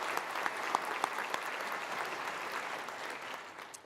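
An audience at a fire and rescue department awards ceremony applauds its award recipients, steady clapping filling the hall with a few louder individual claps standing out before it slowly thins.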